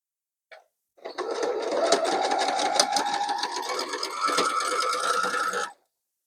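A sewing machine stitches pressed quilt block pieces for an Alabama Twist block, its steady close whirring running for about four and a half seconds after a brief click, with no talking.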